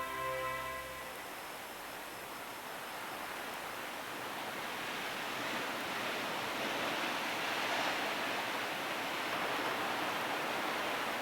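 Ocean surf breaks against Land's End, the rugged southwesternmost tip of Cornwall, a steady broad roar that swells gently and continues without pause.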